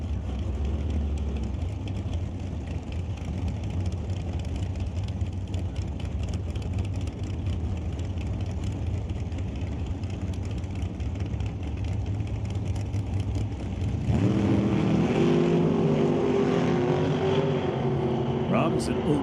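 A 1994 Beretta doorslammer drag race car roars down the track, a loud continuous engine drone that runs throughout, with a race announcer calling the run over it in the later part.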